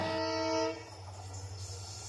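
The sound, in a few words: Indian Railways train horn, ten short whistles signal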